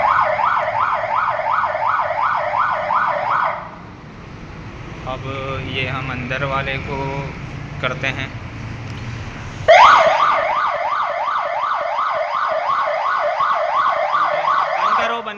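A newly installed security alarm at a pet clinic is tested: a loud rising-and-falling electronic siren wails, cuts off for a few seconds while someone speaks, then blares again close by.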